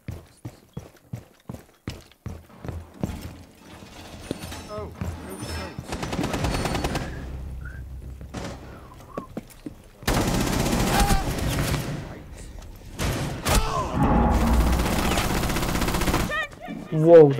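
Rapid automatic gunfire from a Rainbow Six match, dense bursts of shots mixed with game effects and loud stretches of fire, heard alongside players talking over it.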